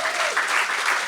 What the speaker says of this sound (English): Please give all of them a big round of applause.